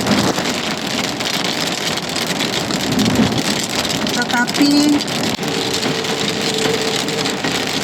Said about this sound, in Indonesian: ini hujan deras banget saudara